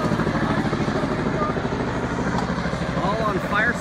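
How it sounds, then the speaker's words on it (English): A Bell 206 JetRanger helicopter of the Los Angeles City Fire Department passes overhead at Castaways in Burbank, its steady rotor and turbine drone running throughout beneath someone talking. "Now that is a Bell 206 Jet Ranger."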